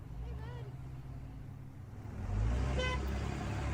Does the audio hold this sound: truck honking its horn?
yes